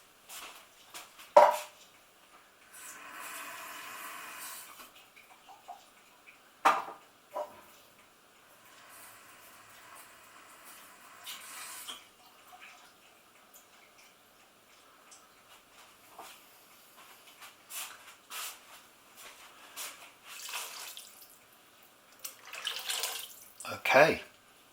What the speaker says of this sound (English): let's rinse these tins.